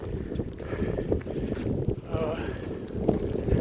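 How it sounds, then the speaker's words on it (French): Gusty wind buffeting the microphone in uneven low rumbles on a walk in light rain, with someone speaking intermittently over it. "il y a du vent"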